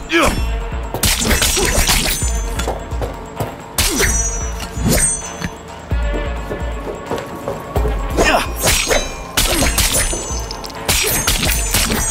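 Sword strikes in melee combat in Cyberpunk 2077, a series of sharp, loud clanging hits in irregular bursts with swishes between them, mixed with voices in places.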